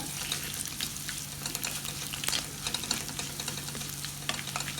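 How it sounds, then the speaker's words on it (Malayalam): Onions fry in a pan for an okra curd curry, a continuous close sizzle broken by frequent light scrapes and clicks of stirring, with a low steady hum underneath. "അത് പയ്യെ തിരിച്ചൊന്ന് ഒന്ന് മൂത്ത് വരട്ടാം എന്നിട്ട് നമുക്ക് ബാക്കി ചേരുവകൾ ചേർക്കാം നമ്മുടെ ഉള്ളിയൊക്കെ ഒരുമാതിരി ആയി വരുന്നുണ്ട്"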